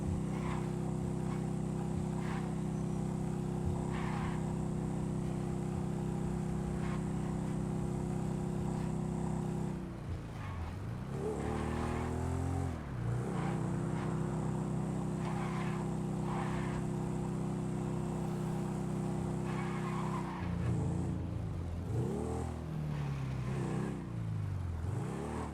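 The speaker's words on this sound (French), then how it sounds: "Jeu de moto." Motorcycle engine in a video game, a steady droning hum that dips and surges twice as the engine revs back up, continuous and fairly loud.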